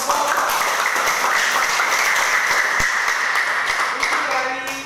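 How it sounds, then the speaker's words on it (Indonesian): A classroom of students gives a short burst of applause for a student group, the clapping steady and fairly loud before fading at the end, with voices mixed in. "Oke, aplaus buat kelompok."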